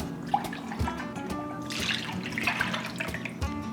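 Half and half cream poured into a bowl while making white chocolate macadamia nut bread pudding, a steady close liquid trickle and splash lasting a few seconds with faint kitchen clatter.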